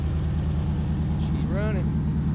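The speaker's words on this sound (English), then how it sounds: "How she fires up." A 1991 Chevrolet Silverado 1500 pickup engine rumbles steadily and loudly up close, a low continuous throb with a brief voice cutting in near the end.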